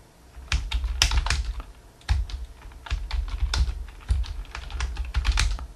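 Words being typed on a computer keyboard into a spreadsheet list, close and clear: quick bursts of key clicks with short pauses between them, alone with no talk.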